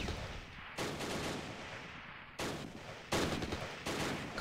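Bursts of rifle and machine-gun fire in the World War II strategy game Close Combat Last Stand Arnhem, several sharp volleys cutting in and out over a steady battle din, no voices.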